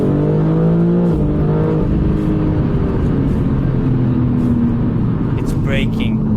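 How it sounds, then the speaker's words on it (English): A BMW M4 G82 with a stage 2 custom chip drives with its engine humming and rising in pitch under steady cabin road noise, while a person talks over it. "The car starts humming."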